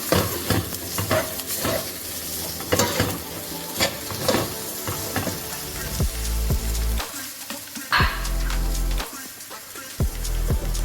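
Garlic, paprika, basil and oregano sizzle in a hot pan with vegetables, with crackling frying and intermittent stirring scrapes, close and fairly loud, no talking.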